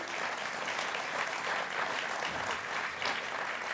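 Applause from a large political party conference audience fills the hall, sustained and fairly even, with no voices heard over it.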